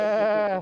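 A human voice imitates a goat bleat: a single short, nasal, wavering 'meh' cry, close and clear, fading at the end.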